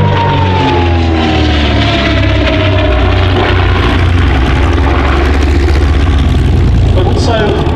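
A 1934 de Havilland Comet racing aircraft flies past at an air show, its engine drone loud and continuous with a slowly falling pitch as it passes, amid crowd and wind noise.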